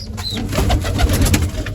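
Pigeons in a loft, including young birds, coo softly and steadily over a low rumbling background, close by with no talking.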